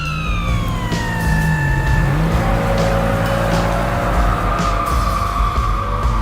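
An animated car races down a road, its engine roaring loud and steady while a siren-like tone sweeps downward over it, with no talk.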